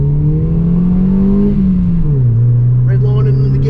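A Hyundai Getz track car engine revs hard, a loud steady drone climbing and then dropping in pitch as it nears the red line, heard from inside the car.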